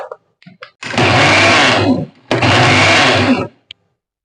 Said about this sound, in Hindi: सूजी और कोकोनट के मिश्रण को मैंने मिक्सी में चर्न कर लिया है।